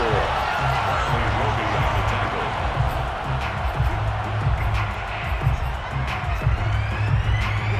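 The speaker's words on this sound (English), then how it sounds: "The crowd here in the Dome making things difficult." Dense stadium crowd noise fills a domed arena in the Madden NFL 22 video game, a constant loud roar with swelling cheers and scattered whoops throughout.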